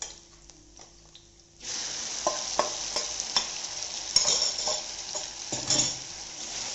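Beef dropped into a wok over high heat for a Romanian-bean vegetable dish, a quiet start then a sudden loud, steady sizzle with the scrape and clink of a spatula stirring, close and without voices.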